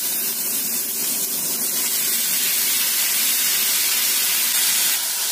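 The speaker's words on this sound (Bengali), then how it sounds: "অল্প একটুখানি তেল দিয়েছি, কটা শুকনো লঙ্কা দিয়ে দিচ্ছি আর একটুখানি পাঁচফোড়ন দিয়ে দিচ্ছি" Dried red chillies and panch phoron fry in a little oil, giving a steady, close hissing sizzle that keeps going with no voices over it.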